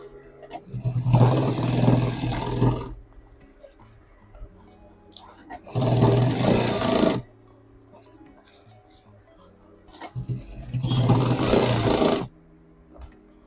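A sewing machine stitching the other side of a fabric pouch runs in three separate bursts of about two seconds each, with quiet pauses between, fairly close and loud.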